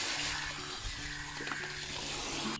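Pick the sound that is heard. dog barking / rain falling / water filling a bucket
water filling a bucket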